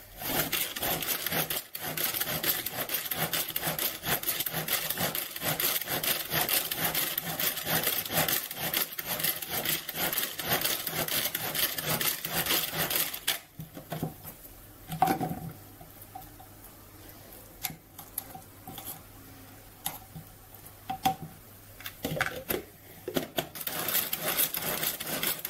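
A kitchen blender purees a courgette sauce meant for fusilli, giving a steady, loud, gritty churning whir for about thirteen seconds before it settles into quieter, intermittent knocks and rattles.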